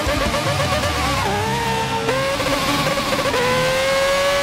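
Formula One race cars in the Forza video game roar toward the finish line, a loud sustained engine whine with rising and shifting pitch as gears change, continuous and close with no talk.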